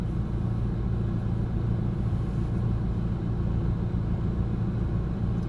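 Traffic on the C1 road gives a continuous deep rumble of car engines and tyres, heard from inside or beside a moving vehicle, steady and near with no talking over it.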